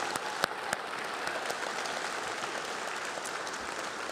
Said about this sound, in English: let's give one huge round of applause for those here and joining us online